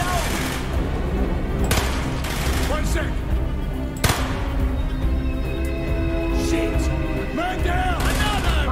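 Gunfire in the video game Call of Duty: Black Ops, set in a jungle battle against the British: dense, continuous shooting and explosive cracks throughout, with sharp louder bursts near the start, middle and end under a loud game soundtrack.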